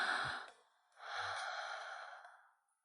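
Two deep cartoon-style breaths, a short sharp intake followed by a longer, breathy exhale that fades out, close and clear with no talking.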